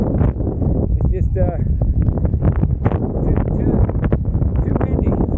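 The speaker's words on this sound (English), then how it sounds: "what you hear in the microphone or over the audio. The wind." Heavy wind buffets the microphone with a constant low rumble while a person talks over it, outdoors on a cross-country bicycle trip.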